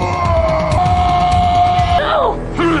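A scream from the 1995 Mortal Kombat film, a loud sustained shrill cry that breaks into wavering, falling shrieks near the end over film sound.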